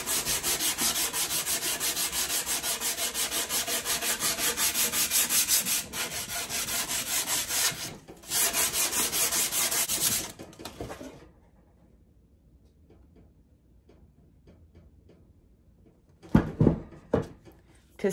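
Light hand sanding with 400 grit sandpaper over a painted furniture transfer, a steady, close rubbing scratch for about ten seconds, then a near-silent pause and a few brief handling knocks.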